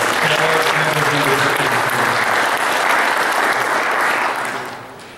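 Audience applause at a conference introduction for a Wisconsin land and water conservation group, a dense, steady wash of many hands clapping that holds loud, then tapers off toward the end.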